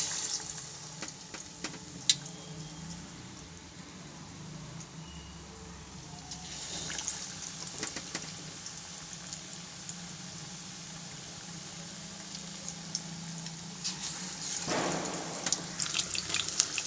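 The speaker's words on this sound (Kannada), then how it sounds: "ಇವಾಗ ಸೊ ಎಣ್ಣೆ ಹಾಕೊಳ್ಳೋಣ ಫ್ರೈ ಮಾಡೋದಕ್ಕೆ. ಡೀಪ್ ಫ್ರೈ ಮಾಡಬೇಕಲ್ಲ." Chili bajji, mirchi bajji, deep frying in oil produces a faint, continuous watery sizzle and crackle, with occasional clicks and a swelling burst of hiss toward the end, without speech.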